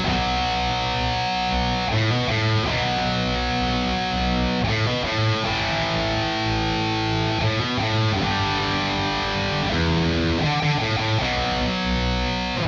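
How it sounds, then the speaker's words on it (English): Distorted electric guitar chugging big sustained power chords over the chorus progression, a dense, continuous roar with chord changes every couple of seconds. "Sounds like he recorded one layer that's just doing some big sustained power chords like this."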